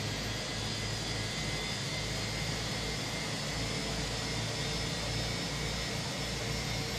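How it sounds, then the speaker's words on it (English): An Airbus A320's second jet engine spools up in a flight simulator, giving a steady, loud whine and roar with a constant low rumble beneath it and no talking. "Second engine is coming up."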